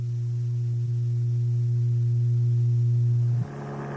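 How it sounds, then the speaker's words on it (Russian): A steady 120 Hz tone like the hum of a grinding machine, loud and unbroken with faint overtones, holding for several seconds before a brief click and a shift at the very end. "Этот звук имеет частоту 120 Гц, в 2 раза больше предыдущего."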